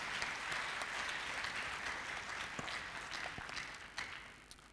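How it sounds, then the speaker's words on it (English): A conference hall audience in Addis Ababa gives welcoming applause to international delegates at a global forum, steady, fairly faint clapping heard from a distance, with a few sharper individual claps standing out. "give them a big welcoming applause to our international delegates"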